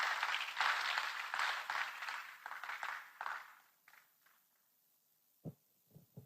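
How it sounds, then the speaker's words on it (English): An audience at a venture capital investment ceremony applauds a speaker, a close, fairly loud burst of clapping that thins out and dies away midway, followed by near silence broken by a few soft thumps. "Can we give him a round of applause"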